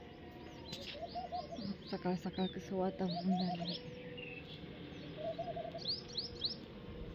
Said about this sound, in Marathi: पक्षी वरडलेला आवाज येतात सगळं.